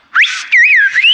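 A single loud, close whistle in Silbo Gomero, the whistled language of La Gomera, rising, dipping and gliding through a short modulated phrase in two quick bursts with no one talking.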